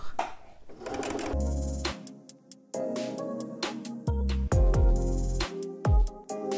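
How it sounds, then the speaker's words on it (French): A sewing machine stitches fabric bands for a bag in several short bursts, its needle clattering rapidly with a motor hum, stopping and restarting between runs, close and without talking. "je vais coudre à 1 cm des bords"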